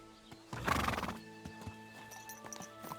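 A horse whinnies loudly in Kingdom Come: Deliverance II, then hooves clip-clop in a steady rhythm against a quiet backdrop of game ambience.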